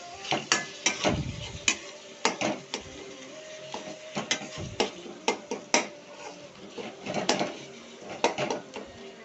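Cauliflower gravy stirred with turmeric in a pan: a spoon clacks and scrapes against the metal in irregular taps and scratches, close and fairly quiet, with no talking.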